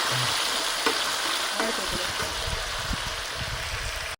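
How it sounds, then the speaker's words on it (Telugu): Chopped tomatoes go into a pan of fried onions, giving a loud, close, steady sizzle with faint stirring scrapes throughout. "ఇదిగోటి ఎర్రగడ్డలు వేగేసినాయి. ఇప్పుడు టమాటాలు వేసేస్తున్నాను."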